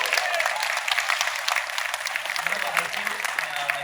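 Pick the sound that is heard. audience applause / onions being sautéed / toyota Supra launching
audience applause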